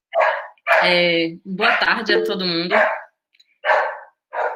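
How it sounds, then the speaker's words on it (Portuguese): A dog barks in the background of an online academic talk, with short sharp barks coming before and after a stretch where someone speaks loudly and close. "Tem um cachorro latindo aqui"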